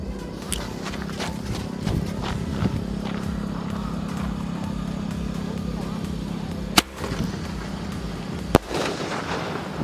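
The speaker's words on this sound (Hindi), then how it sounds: "ये वाला स्काई शॉट ट्राई करके देखते हैं अच्छा जलता है कि नहीं" A green sky shot firework is lit and launched during a 4th of July cracker test, with a low steady hiss and rumble followed by two sharp, loud cracks near the end, heard fairly close.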